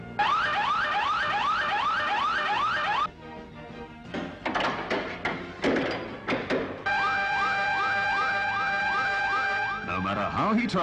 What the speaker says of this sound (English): All parts of the alarm system are tested and retested